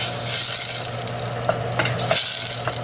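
Two cubes of butter melting over medium heat in a pan for a lemon beurre blanc, giving a steady soft sizzle with a low hum beneath and a few light clicks of stirring.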